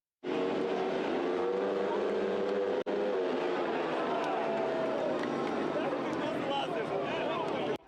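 250cc racing motorcycles roar around a speedway track in a loud, continuous blare of revving engines, the pitch rising and falling as the bikes pass close by.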